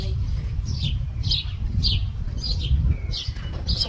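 Birds in a city garden in Germany chirp in short, repeated bursts at moderate distance, roughly every half second, over a steady low rumble of background noise.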